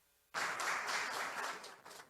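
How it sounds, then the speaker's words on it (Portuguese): An audience bursts into applause at a seminar on selling insurance, a sudden dense clapping that starts after a quiet moment and stays loud for about two seconds before easing off slightly. "uma salva de palmas para o Will aqui também"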